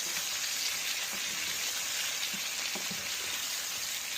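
Spiced potatoes and amchur-stuffed eggplant frying in a pan, a steady close sizzle with soft scraping and stirring scuffs running under it, no voices.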